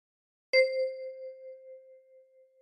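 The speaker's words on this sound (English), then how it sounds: "With your left thumb, pluck 1." One note plucked by the left thumb on a ten-key kalimba sounds once, a bright metallic ping with a long, gently pulsing fade in near silence, with a faint touch at the very end.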